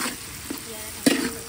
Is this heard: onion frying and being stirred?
yes